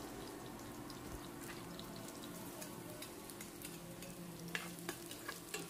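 Garlic sizzling steadily in a pan where onion has already been sautéed, a low, even frying hiss with occasional soft stirring clicks, no voices.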